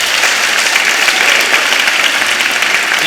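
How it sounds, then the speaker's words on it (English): Dense, even applause from parents gathered at a middle school welcome event, loud and continuous for a few seconds with no talking over it. "Can we give them a round of applause?"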